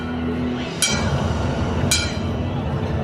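A bell is struck twice, a second apart, at the Mermaid Lagoon pirate-and-mermaid show during Howl-O-Scream in Orlando. Each strike is a bright, sharp metallic clink over a low background hum.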